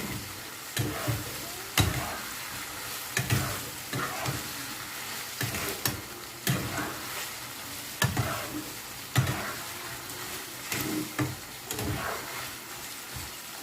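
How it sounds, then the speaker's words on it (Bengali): Chicken mince fries in a pan for fried rice, a steady sizzle broken by regular scraping and clacking strokes of a spatula being stirred through it. "দিয়ে দেবো চিকেন কিমা ফ্রাইগুলোকে, দিয়ে আবারও আমি মাখিয়ে নেব।"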